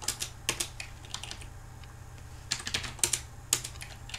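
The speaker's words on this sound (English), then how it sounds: "you get to listen to my keyboard clicking" Computer keyboard being typed on, quiet uneven clicks and clusters of keystrokes with pauses between, close and soft against a low background hum.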